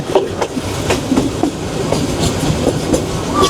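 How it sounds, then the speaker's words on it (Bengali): A Joyantika Express passenger train rolls steadily along the rails through a curve between Dhaka and Sylhet, with rhythmic clickety-clack beats from the wheels over joints, loud and close, with a faint high squeal near the end. "দুর্দান্ত একটা কার্ভ নিয়ে ছুটে চলেছে আমাদের জয়ন্তিকা এক্সপ্রেস"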